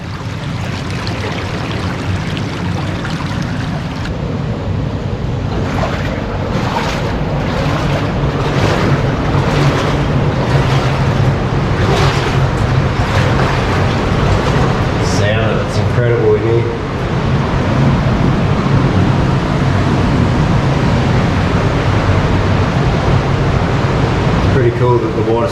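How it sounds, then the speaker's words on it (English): Water rushes through a channel cut about 30 metres through rock, a loud broad steady roar filling the whole stretch, with a few brief rattling bursts partway through. "Cool that the water still flows through it"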